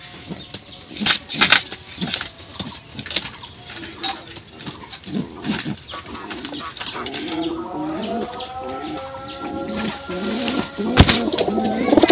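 In a loft, an aggressive male pigeon newly paired with a mate coos in deep rolling phrases amid sharp wing flaps and scuffling bursts, close and loud, with the cooing growing steadier toward the end.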